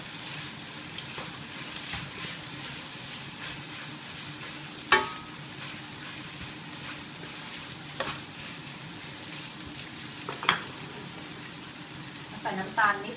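Onion stir-frying in a hot pan for prawn fried rice, a steady broadband sizzle throughout with a few sharp spatula clicks and scrapes at irregular intervals, fairly close.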